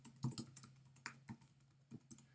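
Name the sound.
typing on a computer keyboard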